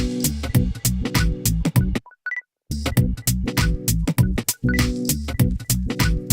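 Electronic dance track drop built from a crash, risers, an operator synth lead, chords, bass line and drums, loud and dense with pulsing repeated hits and a brief gap of sparse high beeps midway.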